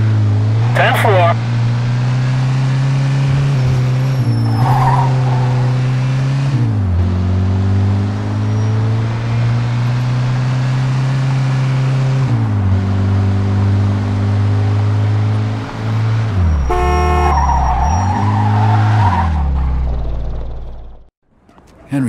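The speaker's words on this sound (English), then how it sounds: "In pursuit of a speeding vehicle." A speeding car chase in the video game Mafia II: a loud engine drones steadily, its pitch dropping and climbing with gear changes and a brief rev, while voices are heard over it.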